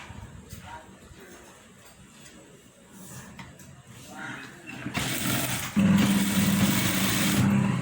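Sewing machine stitching a folded fabric edge for a back opening: quiet handling sounds at first, then the motor whirs up loud and runs steadily in a continuous close hum.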